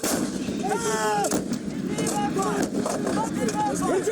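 Artillery fire from a Hollywood film scene comes as several sharp blasts spaced across a few seconds, mixed with tonal whistles and background voices.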